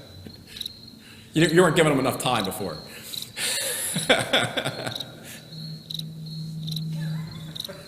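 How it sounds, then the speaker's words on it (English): Crickets chirp as an added sound effect, a steady high-pitched trill running through the whole clip under a man's speech and a brief burst of laughter. "Now you can put the crickets up there"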